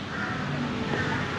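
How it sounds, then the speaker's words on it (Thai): A crow caws outdoors at a distance, heard faintly through steady wind noise in an open garden. "อีการ้อง"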